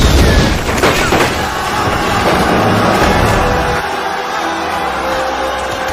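Loud, heavy booms and crackling blasts from bombs thrown at soldiers in a martial-arts action film, rumbling densely over a dramatic soundtrack before easing into a lower sustained roar.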